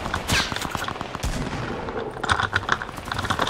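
Video game gunfire comes in rapid bursts of sharp cracks, close and loud, in a busy fast string with brief gaps between the volleys.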